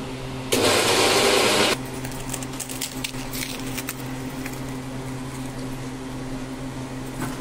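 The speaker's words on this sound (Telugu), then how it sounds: "ఉంటుంది అలా మిక్సీ పట్టేసుకోవాలా." A kitchen mixie grinds okra with tamarind in a short loud whirring burst of about a second, then drops to a quieter rattling hum.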